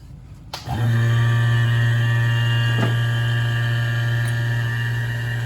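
A vacuum pump starts up on a mini split AC circuit, switching on after a click and settling into a loud, steady motor hum with a constant tonal drone.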